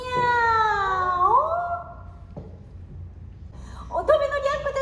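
A concert audience imitates cat meows together, a drawn-out chorus of voices rising and falling, followed after a brief pause by another meowing call, loud and close in a hall.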